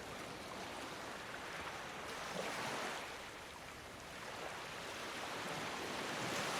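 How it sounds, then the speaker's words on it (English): Ocean surf at Fingal Heads rolls in as a steady, full roar of breaking waves, broad and continuous with gentle swells in intensity and no voices. "The sound of the ocean fills my ears."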